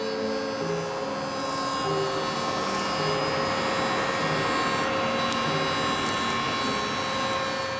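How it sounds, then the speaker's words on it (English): A 7 horsepower table saw rips through thick rough lumber, its loud, continuous motor whine shifting slightly in pitch as the blade loads and eases, with no speech over it. "I'm grateful to have a 7 horsepower saw to power its way through this thick wood"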